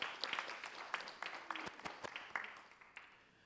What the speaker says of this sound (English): give her a round of applause for her presentation today